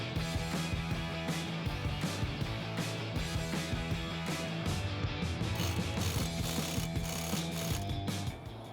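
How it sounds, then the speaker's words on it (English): Ratcheting and mechanical clicking while a hose clamp is tightened on a RIPP intercooled supercharger in a 2015-2017 Jeep Wrangler JK engine bay, a dense, steady run of close metallic clicks and tool noise with no talk. "then we can go and tighten that clamp up a little bit"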